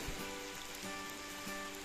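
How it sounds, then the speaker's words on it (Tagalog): Steady rain falls during a storm over a banana planting site, a dense, even hiss of drops that holds without pause for the whole stretch, with no voices. "bumalik naman yung ulan"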